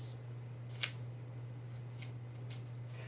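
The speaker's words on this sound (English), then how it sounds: "I'm going to cut a piece for here, and then I'm going to cut 3" Scissors snipping strips of craft material, several short crisp cuts spaced about half a second apart, close and quiet over a low steady hum.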